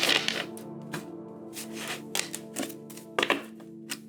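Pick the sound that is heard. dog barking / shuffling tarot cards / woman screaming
shuffling tarot cards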